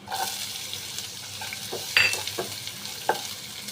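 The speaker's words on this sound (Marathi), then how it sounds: "त्यानंतर मी त्याच्यामध्ये एक वाटी बारीक कापलेला कांदा टाकणार आहे" Finely chopped onion sizzling in a pan with green chillies for a quick pumpkin vegetable dish, with a soft continuous fry and a few sharper stirring scrapes and clinks, no talking.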